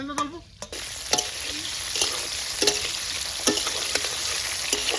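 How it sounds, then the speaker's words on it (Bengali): Capsicum frying in a pan, a bright continuous sizzle punctuated by repeated sharp scraping and tapping strokes of a spatula, close and fairly loud. "প্রথমে ভাজলাম ক্যাপসিকাম"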